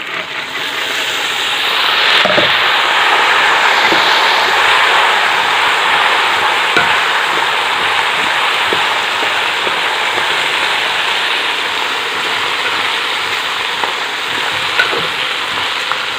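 Drained lentils sauté in a pot for Egyptian koshari, giving a loud, continuous, even sizzle with occasional faint stirring clicks underneath.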